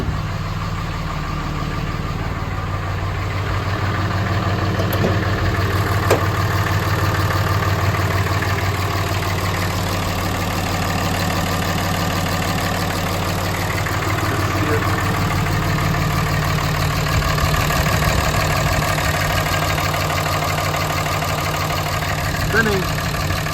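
A 2005 Dodge 3500 with a Cummins diesel idles steadily with a deep, constant rumble and diesel clatter, heard close throughout a fan clutch replacement, with occasional talk.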